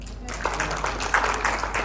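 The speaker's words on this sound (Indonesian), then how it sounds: "tepuk tangan untuk Tuhan" A church congregation claps during a worship service sermon, a dense, steady patter of many hands close by, with a voice speaking over it.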